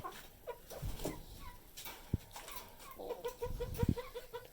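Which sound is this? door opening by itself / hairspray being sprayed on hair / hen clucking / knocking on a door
hen clucking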